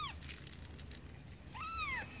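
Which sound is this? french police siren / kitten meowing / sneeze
kitten meowing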